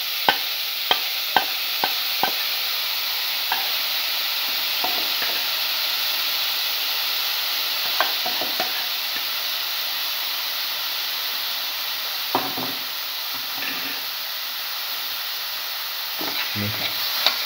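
Marinated cottage cheese sizzles steadily in a hot pan for a spinach bowl, with scattered sharp clicks and scrapes from stirring cutting through the constant frying hiss.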